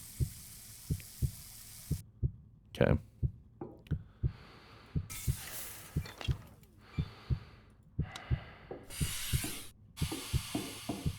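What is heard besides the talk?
heartbeat sound from low stamina in Occupy Mars video game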